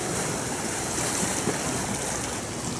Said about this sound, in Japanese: 波音激しいですね。